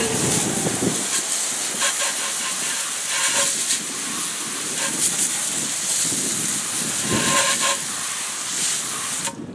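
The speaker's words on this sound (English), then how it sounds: "Then I'm simply going to take my hose and rinse this tire down." A garden hose sprays water onto a car wheel tire, a steady loud broad hiss running nearly unbroken throughout, with small shifts in intensity as the stream moves across the rubber.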